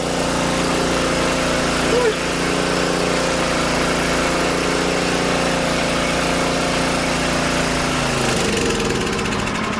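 A small gasoline generator, an old junked unit, runs with the choke fully off, giving a steady, close, buzzy engine drone that shifts pitch and roughens near the end.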